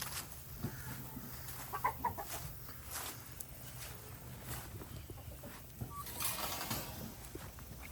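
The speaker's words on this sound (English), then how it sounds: "This is all roosters over here." Roosters cluck and murmur faintly in the background, with a few scattered calls amid a quiet outdoor hum; no clear crow stands out.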